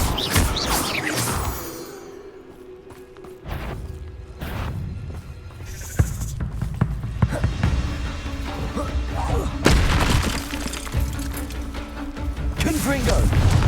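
Spell blasts and combat effects from the Hogwarts Legacy video game, including a Bombarda blasting spell: repeated heavy thuds, booms and whooshing impacts over a busy game soundscape, with a voice calling out spells.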